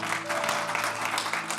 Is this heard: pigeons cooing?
no